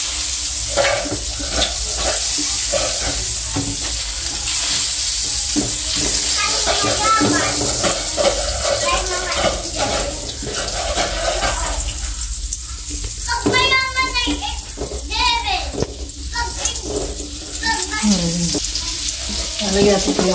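Garlic sizzles and fries in a pan of butter, dairy cream and rice, with a steady loud hiss and crackle and stirring scrapes throughout, while a person talks over the cooking.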